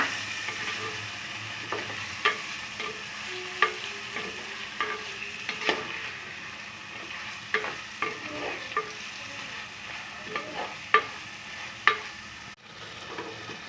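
Chicken pieces frying in a pan give a steady low sizzle, with intermittent scrapes and taps of a spoon as they are stirred, fairly quiet and close; no talking.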